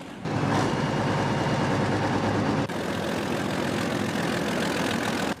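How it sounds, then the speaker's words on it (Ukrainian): Steady, loud diesel engine of a 2S7 Pion self-propelled artillery gun idling close by, a heavy low rumble that holds constant, with a slight drop in level about halfway through. "Самі лише розміри та звук мотора піона вже справляють враження"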